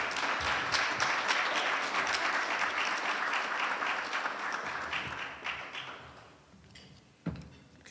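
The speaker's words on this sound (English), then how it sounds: "Can we give Margot a round of applause?" A round of applause for an award recipient at an annual meeting, a dense burst of many hands clapping together that tapers off and fades toward the end, followed by a single stray thump.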